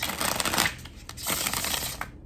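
Plastic tarot cards of a Rider deck are riffled and shuffled up close, giving a crisp, crackling flutter that runs steadily with brief pauses between passes.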